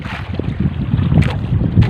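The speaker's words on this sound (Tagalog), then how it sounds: "yung hangin natin ay hanging hamihan" Strong northeast monsoon wind buffets the microphone at sea on a fishing boat in a steady rumbling roar, with boat and water noise mixed in and brief gusty peaks.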